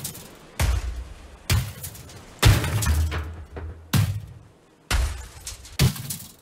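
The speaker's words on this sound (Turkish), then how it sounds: "Bak çekiçle kırılabilecek her şeyi kıracağım." Hammer blows smashing ship parts in Ship Graveyard Simulator, a series of loud, sharp shattering cracks in irregular bursts, each ringing briefly before cutting off, with no talk.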